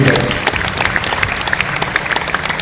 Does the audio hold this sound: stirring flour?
no